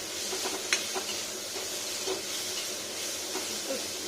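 Fenugreek greens fry with salt and turmeric in a pan, giving a soft, steady sizzle broken by occasional scrapes and stirring clinks of a spatula.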